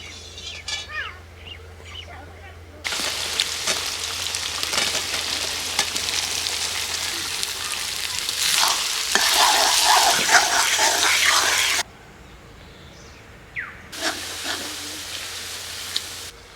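Loud, steady sizzling of sliced onions frying in hot oil, rising in bursts, then cutting off briefly before the crackling hiss resumes.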